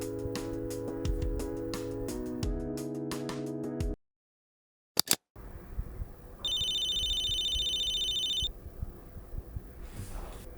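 A telephone rings before a small Japanese shop answers a call, opening with rhythmic tonal ringing, then a short silence, a brief click and a steady electronic ring tone over a low background hum.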